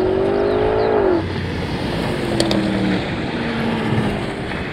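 A Mercedes-AMG GT 4-door, a Porsche Panamera Turbo S, a BMW M5 and a Tesla Model S accelerate hard in a rolling drag race, giving a loud sustained engine roar with rising revs and a gear change, heard from inside a car.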